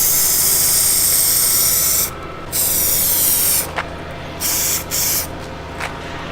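Spray gun hissing steadily as metallic paint goes onto a Toyota KE70 rocker cover, with long continuous bursts broken by short pauses and brief restarts, loud and close.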